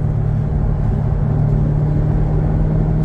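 Steady low exhaust rumble from a Chevrolet Camaro engine running at a constant pace, close by at a car show, with no speech.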